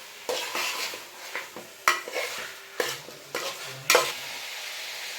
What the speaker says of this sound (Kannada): ಗರಂ ಮಸಾಲ ಹಾಕಿ ಚೆನ್ನಾಗಿ ಮಿಕ್ಸ್ ಮಾಡ್ಕೊತಾ ಇದೀವಿ ನೋಡಿ.